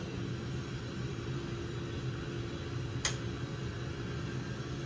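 Steady jet engine and APU whine with a low rumble from an A-10C warming up during a cold start in the DCS World flight sim, played through a home sim-pit setup, with one brief sharp click near the end.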